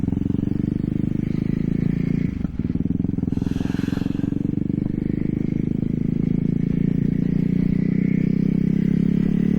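Ducati Hyper Motard motorcycle being ridden, its engine droning loud and close throughout with a brief dip and mechanical clatter partway, mixed with road and wind rush.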